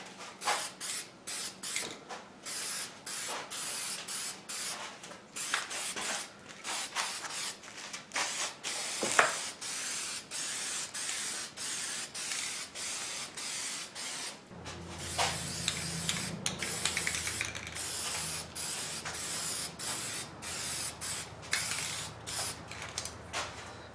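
An aerosol can sprays high heat paint onto a cannon part being restored, in repeated short hissing bursts from long even strokes. The bursts are close and fairly quiet, with brief pauses between passes and no talk.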